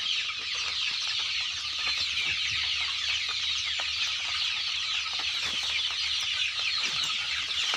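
Chickens raised as backyard poultry cluck in a steady, dense chorus, the calls close and continuous over a constant background hiss.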